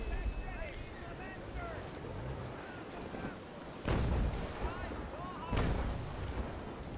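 Two heavy booms of cannon fire from a sailing ship in the naval video game Naval Action, heard over steady wind and sea noise, with a person talking faintly underneath.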